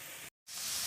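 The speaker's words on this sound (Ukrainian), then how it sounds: "І ось тут смажиться картопелька." Potatoes fry in a pan with a steady, hissing sizzle heard close up; the sound drops out briefly before resuming louder.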